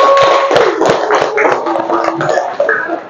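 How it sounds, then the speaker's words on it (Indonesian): A classroom group of pupils claps hands together, a short burst of loud, uneven nearby claps with some tapping and faint voices. "mari kita tepuk tangan untuk kita semua sekali lagi"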